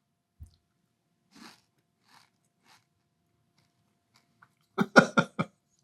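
Crunchy chewing of Post Frosted Chocolate Cake Shredded Wheat cereal, with a couple of faint bites early on, then a loud close burst of several crunching chews near the end.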